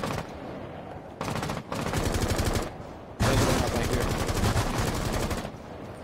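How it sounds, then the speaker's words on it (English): Rapid automatic gunfire bursts in the video game Rainbow Six Siege, loud close rattling volleys in several blocks with short gaps between them, no talk over the shooting. "It's a shotgun."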